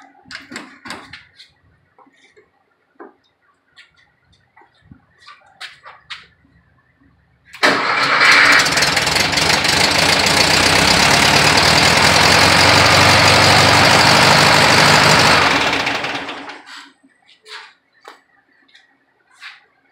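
A VW engine on a test-run stand cranks and catches, then runs loud and steady for several seconds before cutting off, with scattered clicks and handling noises before and after.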